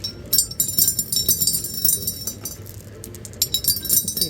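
Glass marbles clink and clatter as they are poured into a rock tumbler barrel: dense, continuous bright knocking of glass on glass, close and fairly loud throughout.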